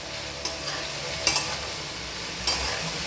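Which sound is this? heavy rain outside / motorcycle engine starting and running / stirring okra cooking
stirring okra cooking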